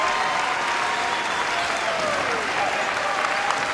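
A basketball crowd at Patrick Gymnasium applauds and cheers in a steady, dense roar that fills the whole gym from start to finish.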